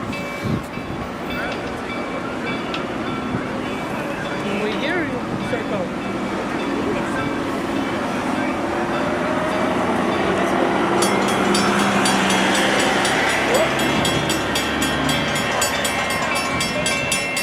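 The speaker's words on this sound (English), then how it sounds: "Train coming? They're steamy." A steam train rumbles past with rising rail clatter and hiss, loud and close, while a person speaks briefly over the noise.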